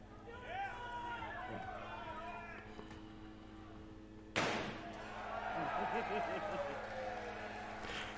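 A single loud, sharp slam of metal about halfway through, a heavy blow to a Tesla Cybertruck door, with voices talking around it.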